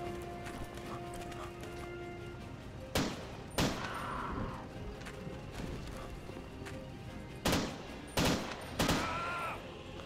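Automatic rifle fire in the video game Commandos Strike Force rings out as several sharp, loud single shots and short bursts spread over a steady background hum, with some close together near the end.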